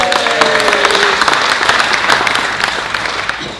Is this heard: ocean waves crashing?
no